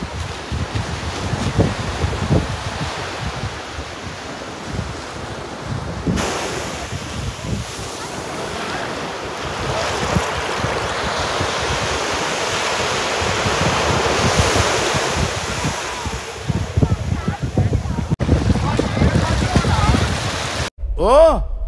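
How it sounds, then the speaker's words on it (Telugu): Sea waves surge and break at Rushikonda beach, a steady loud wash of surf with wind buffeting the microphone, building toward the end. "సౌండ్ చూడండి ఎలా వస్తుందో, బీచ్ అలలు"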